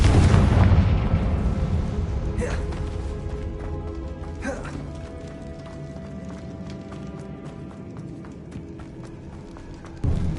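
A Confringo fire-blast spell from the Hogwarts Legacy video game bursts loudly at the start with a heavy rumble, then trails off into a long, fading low roar with faint game effects behind it.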